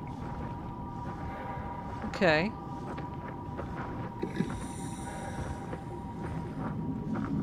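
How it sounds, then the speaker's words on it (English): Whale calls in the underwater video game SOMA: a single rising, warbling moan sounds briefly in the middle over a low rumbling ambience, with someone speaking quietly nearby. "Hello, whales."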